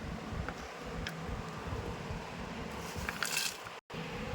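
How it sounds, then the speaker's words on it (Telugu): Roasted peanuts crushed in a mortar for a gourd chutney, producing close, gritty crunching and squishing under a faint background hiss, with a few sharper cracking hits near the end. "ఇందులో మనము గుడ్డలు అయితే వేసి దంచుకుందాం"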